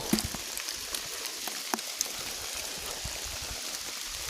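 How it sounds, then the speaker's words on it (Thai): Steady rain falls on the surface with scattered individual drops pattering close by, forming a constant wash of sound throughout with no voices. "ฝนตกแล้ว"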